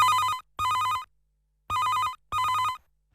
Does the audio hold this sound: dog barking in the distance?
no